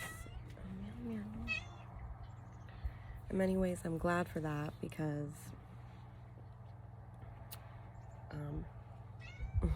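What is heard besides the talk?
cat meowing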